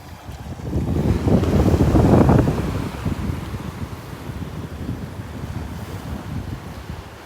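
Ocean waves break steadily on a beach in North Naples, Florida, a loud continuous surf roar that swells early and then rolls on, mixed with heavy wind buffeting the microphone.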